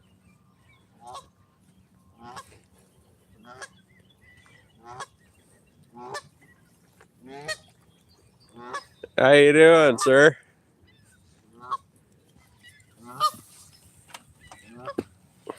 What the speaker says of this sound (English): Those are geese, Canadian geese.